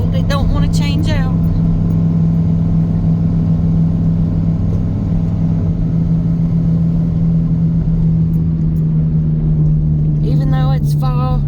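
A truck engine with a cold transmission runs at a low, steady rumble that holds one constant drone, close and continuous, while people speak briefly near the start and end.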